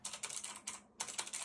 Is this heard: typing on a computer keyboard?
yes